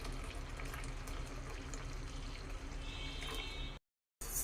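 Milk poured into a boiling Assam tea decoction. A faint, continuous pouring and bubbling sound is heard close by, broken near the end by a brief silence.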